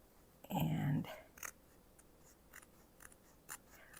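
Scissors trim fabric around a hand-stitched heart in a quiet room, making a series of soft, brief snips and clicks spaced irregularly, with a louder muffled rustle near the start.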